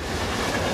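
Loud, steady rumble and rattle of a Hiwassee River Scenic Railroad passenger train rolling along the track, heard up close as a continuous wash of noise.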